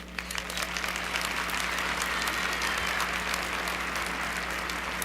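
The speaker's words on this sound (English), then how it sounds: "Please give a big warm round of applause for Sister Ilana Banzant." A large audience at a Saviours' Day event in a hall breaks into sustained applause that swells quickly and holds steady, loud and continuous, under a low constant hum.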